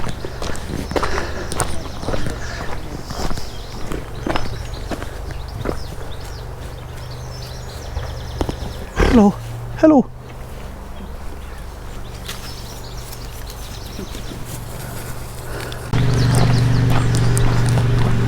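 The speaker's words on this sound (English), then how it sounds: "Two little horses here." Two small horses clip-clopping past on a road beside stone-walled fields at a Irish folk park, hooves steady and fairly close, with a voice calling a greeting partway and a louder rumble starting near the end.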